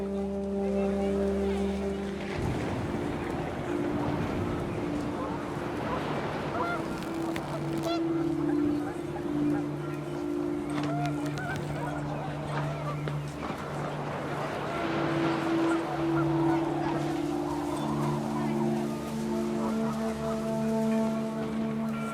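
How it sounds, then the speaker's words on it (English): Panicked geese honk over and over in What Remains of Edith Finch, loud, overlapping calls over gusting wind and a steady rain-like wash, with a low sustained tone underneath. "The wind picked up and panicked geese appeared and quickly went."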